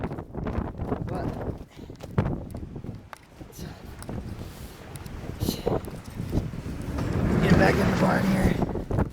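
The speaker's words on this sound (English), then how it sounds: "You can see how crazy this storm is." Strong blizzard wind gusting through a heavy snowstorm, buffeting the microphone in uneven roaring surges that build louder toward the end, with a person talking through it.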